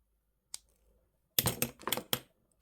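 Jewellery wire tail end snipped with cutters for a pendant, heard as a faint click followed by a cluster of sharp close snips and clicks, with no talking.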